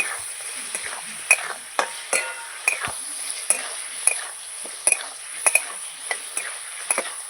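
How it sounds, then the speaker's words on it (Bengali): Vegetables with salt and turmeric stirred in a frying pan over a steady sizzle, with repeated scraping clinks of a utensil against the pan at an irregular rhythm, close and fairly loud. "লবণ এবার ভালো করে নাড়াচাড়া করে নেব"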